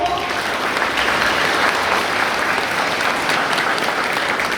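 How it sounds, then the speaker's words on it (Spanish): Audience applause at a school celebration, a dense, steady wash of many hands clapping together, loud and continuous with no voices standing out. "Así que vamos a darnos todos un fuerte aplauso"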